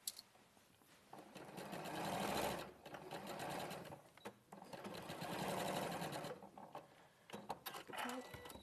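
A sewing machine stitches raglan sleeves to a garment in two long, steady bursts of fast mechanical whirring, close and clear, with brief pauses between runs and no talking.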